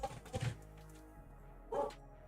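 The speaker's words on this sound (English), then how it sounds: "Hang on, my dog's going crazy." A pet dog barks twice in a home, short yips close to the microphone separated by a pause of over a second, with no talking.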